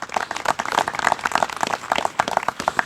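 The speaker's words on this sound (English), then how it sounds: "I'd like a round of applause" Applause for a bridge crew at an outdoor celebration of a restored bridge in Hermon, New York: scattered hands clapping steadily for about three seconds, with no voices.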